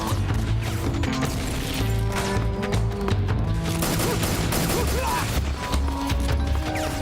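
A grenade detonates during a Metal Gear firefight, a loud crash and burst of debris amid rapid gunfire, over a droning game music bed.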